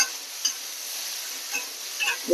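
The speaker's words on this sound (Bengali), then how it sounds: "এটাকে সুন্দর করে ভাজবো যত সময় না জিনিসটা নরম হয়ে যায়" Ridge gourd and potato pieces with a little turmeric fry in a pan with a soft, steady sizzle, broken by a few light stirring scrapes and clicks.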